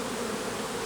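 Honeybees from a crowded hive that has just been shaken buzz in a dense, steady, close-up drone with no voices.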